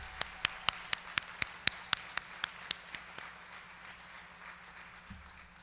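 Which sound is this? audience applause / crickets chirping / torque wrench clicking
audience applause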